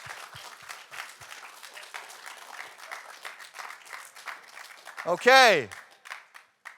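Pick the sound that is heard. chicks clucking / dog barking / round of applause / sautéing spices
round of applause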